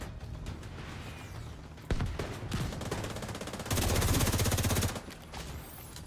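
Rapid automatic gunfire in The Division 2 during a raid, sustained bursts with a dense, loud stretch of fire near the middle, no talking.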